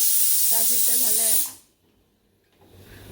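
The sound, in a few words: pressure cooker whistle releasing steam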